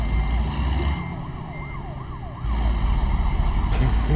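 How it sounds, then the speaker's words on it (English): Emergency siren in the American Truck Simulator driving game, a loud wailing and yelping tone that sweeps up and down over steady engine and road rumble, heard alone. "I hear a siren."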